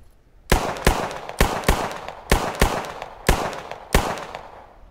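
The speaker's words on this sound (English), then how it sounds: "let's put some rounds down as you would in panic mode when you see the enemy" Rifle fire from the video game Squad, aimed at long range in panic-style bursts: about nine loud, sharp shots in uneven pairs and singles, each cracking clearly with a short decaying tail.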